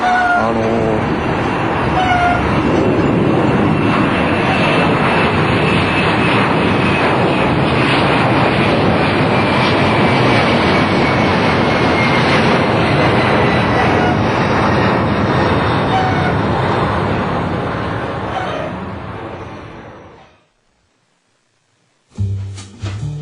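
A loud jet airplane flies low over Sanrizuka near Narita Airport, roaring in a continuous, broad rumble for about twenty seconds, then fading out abruptly to near silence.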